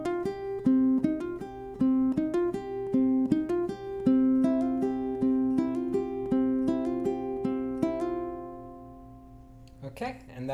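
Ukulele picking a theme intro, a steady run of bright plucked notes in a repeating rhythm for about nine seconds, close and clear, fading out before a brief noise at the end.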